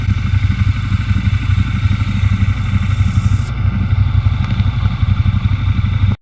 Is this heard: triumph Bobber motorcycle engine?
yes